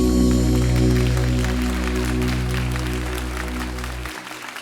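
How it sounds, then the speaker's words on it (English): Audience applause at a holistic health and wellness forum for multiple sclerosis in Chicago, a steady wash of clapping over a low hum that fades and cuts off near the end. "Thank you for that applause."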